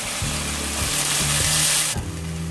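Garlic, onion, tomato and beef sizzle loudly in hot oil for an ampalaya con carne, a steady close frying hiss broken by several soft spatula scrapes and taps against the pan.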